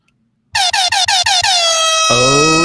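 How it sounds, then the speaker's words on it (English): An air horn button on a recorder sounds a loud, near series of six short honking blasts in quick rhythm, then one long sustained blast that drops to a lower pitch before the end. "Oh yeah, that air horn,"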